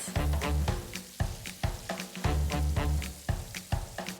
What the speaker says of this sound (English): Lower the fire to medium-low heat, add and cook the sausage on both sides.